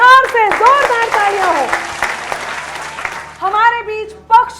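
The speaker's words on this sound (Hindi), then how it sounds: "जोरदार तालियां हो" A crowd at a comedy poetry show bursts into loud, sustained clapping and cheering while a host's amplified voice calls out over it, then the applause drops away and his voice continues.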